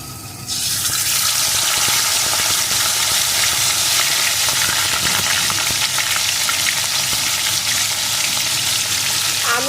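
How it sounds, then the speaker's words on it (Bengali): A fish head rubbed with salt and turmeric, from a large hilsa, drops into hot mustard oil and bursts into a loud, dense, continuous sizzle that stays steady and close with faint crackles throughout. "লবণ হলুদ মাখানো মাছের মাথাটা দিয়ে ভেজে নেব আমি"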